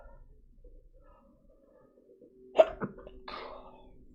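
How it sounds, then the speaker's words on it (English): A person with a cold gives a sudden, sharp sneeze in a quiet room, followed by a shorter catch of breath and a breathy trailing exhale, all close to the microphone. "This is just gonna be a ASMR channel for sneezing now"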